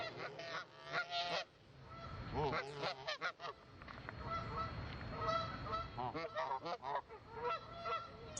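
Canada geese honking repeatedly in a busy, overlapping chorus, loud and close, with a few brief voices mixed faintly underneath.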